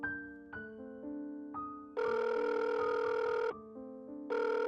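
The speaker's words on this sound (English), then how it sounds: "The phone rang." A telephone rings in repeated electronic bursts, loud and close, with short gaps between rings and no one answering or talking.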